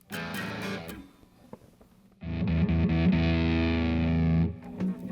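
Electric guitar played through a distortion pedal for rock tone, with a few choppy picked notes before a loud, sustained distorted chord that rings out and then cuts off.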